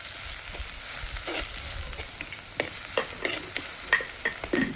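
Onion frying in a pan as the base for a South Indian prawn and moringa leaf soup, heard as a steady close sizzle with scattered spoon scrapes and taps while stirring, no voices.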